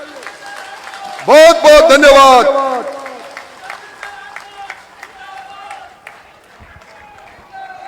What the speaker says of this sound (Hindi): मुख्यमंत्री जी के सम्मान में इस ओर से उस छोर तक ताली बजनी चाहिए